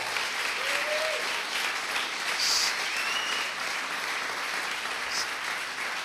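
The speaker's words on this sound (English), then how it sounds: "How about a round of applause for that?" Steady applause from a breakfast-club audience at a San Diego triathlon club gathering, a continuous even patter of clapping that holds at moderate loudness for the whole stretch with no voices.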